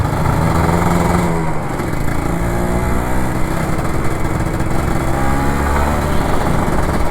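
An old Kawasaki Ninja RR 150 two-stroke motorcycle engine runs steadily close by, a loud, buzzy, continuous drone with a slight dip in pitch partway through, heard alone with no voices.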